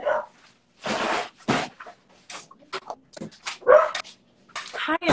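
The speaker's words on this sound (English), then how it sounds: "do you hear my dog?" A dog nearby gives several sharp barks and whimpers in short, irregular bursts with gaps of quiet between them, indoors, alone with no talk over it.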